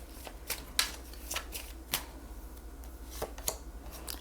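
A deck of cigano fortune-telling cards is shuffled and handled close by, giving scattered crisp snaps and riffles over a faint low hum, with no talking.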